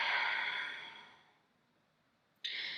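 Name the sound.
yoga instructor exhaling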